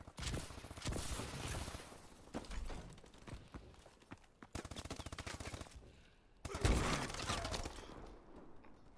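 Video game shootout with rapid machine-gun bursts and fusillades, loud automatic fire coming in several long runs separated by brief pauses, one heavy impact near the end.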